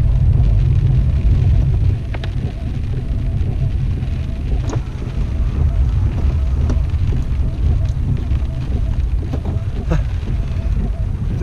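Heavy rain falls steadily in Big Bear in the mountains, a dense continuous wash of drops with wind rumble, heard from close by, with a few brief louder patters throughout and no talk over it.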